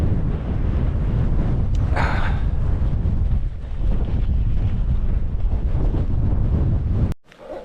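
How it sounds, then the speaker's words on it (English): Strong wind on an exposed coast at Knockalla roars and buffets the microphone loudly and continuously, then drops away abruptly just before the end. "maybe get a bit of shelter from the wind"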